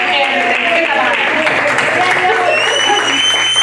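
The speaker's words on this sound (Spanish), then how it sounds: "vamos a darle un aplauso al predicador de esta noche" A church congregation claps steadily in a dense, sustained wash of applause for a preacher, with a low hum and some voices underneath.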